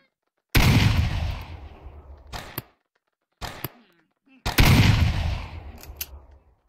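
Two loud, broad bursts of video game gunfire from a penguin hitman character, each trailing off over about two seconds, with short sharp hits between them and no speech.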